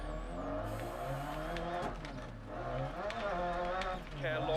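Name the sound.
rally car driving in video game DiRT Rally, first-person view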